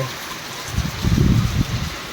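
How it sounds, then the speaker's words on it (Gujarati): Steady rain patters in the background, mixed with low rumbling wind gusts that swell in the middle of the short stretch. "અને વરસાદ ચાલુ જોયો કેવો કાવે"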